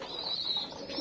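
Domestic pigeons cooing up close, one soft continuous coo over a faint hiss of background noise.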